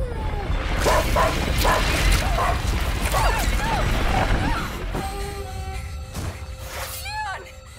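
Leon the dog yelps and whimpers in short, high, rising cries in A Plague Tale: Innocence, with a scattering of repeated yips over mechanical rumble, fading to a few clearer whines at the end.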